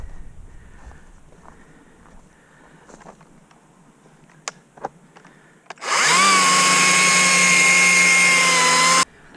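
A Stihl MSA 60c battery chainsaw cuts through a fallen tree on a trail, a loud, steady electric whine starting abruptly after a few quiet clicks and running about three seconds before stopping.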